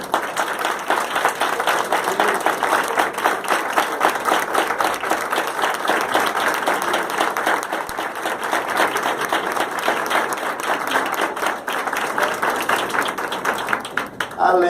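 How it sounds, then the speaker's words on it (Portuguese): A church congregation claps steadily through a festive anniversary service, dense applause filling the room at an even level from start to finish with a faint voice rising near the end. "vocês, irmãos, merecem uma salva de palmas"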